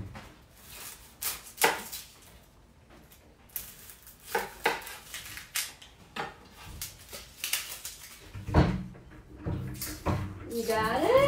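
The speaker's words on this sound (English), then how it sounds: "for caramelized onions, we're just slicing them" A knife slices onions thinly on a cutting board, giving irregular taps and thuds scattered through the clip, with kitchen clatter of dishes and cupboards and a person talking at times.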